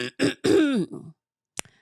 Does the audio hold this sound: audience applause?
no